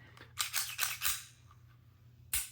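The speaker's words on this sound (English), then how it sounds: "Ooh, that is a really nice trigger pull." Dry-fire trigger pulls on an H&K VP9 pistol: a quick run of sharp mechanical clicks close to the microphone, followed by one more distinct snap after a short pause.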